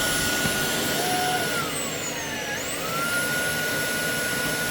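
A Tineco S6 Flash Dry Pet vacuum runs its self-cleaning cycle on its tank and passages, a loud, steady close roar with high whining tones that dip and rise again midway.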